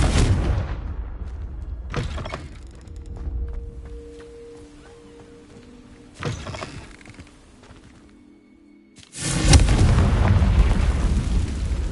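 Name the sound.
Confringo spell explosions in Hogwarts Legacy video game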